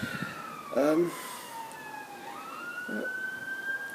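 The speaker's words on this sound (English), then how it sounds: "Even here, there's bloody sirens." Emergency vehicle sirens wail outside, a steady faraway tone sweeping down and back up, with a person briefly speaking over it twice.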